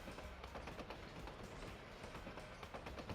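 A train from the video game Danganronpa 2 runs steadily along its track, a dense, continuous rumble with faint rhythmic clatter, fairly quiet and unbroken throughout.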